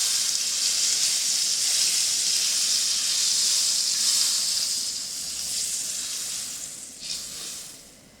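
A square of butter melting in a hot frying pan gives a loud, close, continuous hiss and sizzle that eases off toward the end, with no voices.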